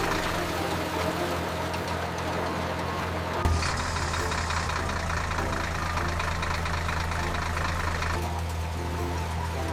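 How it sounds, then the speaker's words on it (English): A cartoon farm tractor pulling a plow across a field, its engine droning steadily at mid distance with a constant low hum and a brief bump partway through, no voices. "Tractor plows the whole field"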